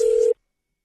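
Single short telephone tone at the start of a radio prank call, a clean steady beep of about a third of a second that cuts off abruptly into silence.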